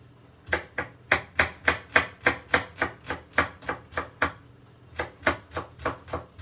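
A knife chops a red onion finely on a board in quick, steady strokes, close and crisp, about twenty sharp chops with a short pause midway; no voices.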